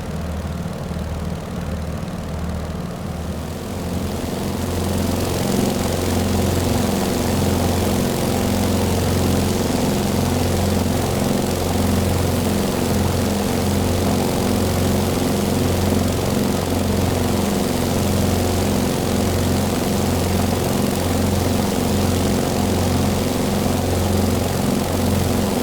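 Beechcraft 17 Staggerwing biplane's radial piston engine running steadily in a flight simulator, a loud continuous throbbing drone with a rhythmic low pulse that swells after the first few seconds and holds for the rest.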